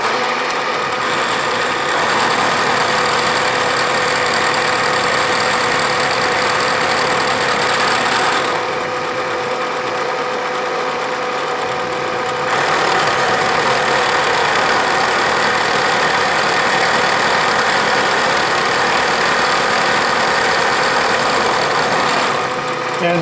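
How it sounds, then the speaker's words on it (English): A milling machine climb milling a steel gear cutting fixture runs with a steady mid-pitched motor hum and a constant cutting whir, loud and continuous, shifting in level partway through. "this will be the last pass on this side, which should take me to the line. And I'm climb milling for a better finish."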